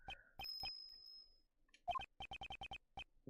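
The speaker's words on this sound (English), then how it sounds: "It has a bell in its collar." Small bell on a dog's collar in the video game Ace Attorney Investigations, a quick run of short, bright jingling chimes repeating in an even rhythm near the end, with a single sustained high tone earlier.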